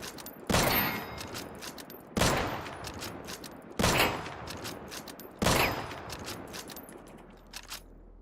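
Rifle fire from an AK in the survival game Deadside: four sharp bursts of rapid shots spaced a second or two apart, loud and close, with a couple of faint clicks trailing at the end.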